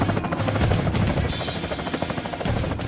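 Helicopter from the action film Crank: a steady, loud rotor drone with rapid low thumping and a whining turbine buzz, continuous throughout with bursts of scuffling action over it.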